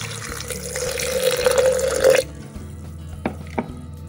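A steady stream of water pours and splashes into a turmeric mixture for about two seconds, then stops, followed by a couple of faint drips.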